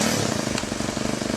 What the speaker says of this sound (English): I'm going to be running this engine here off of plastic diesel.